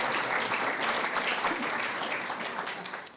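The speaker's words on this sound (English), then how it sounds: "you can applaud if you want." Audience at the Friends of Ireland Luncheon applauding, a dense, steady roomful of clapping hands that holds for several seconds and fades slightly at the end.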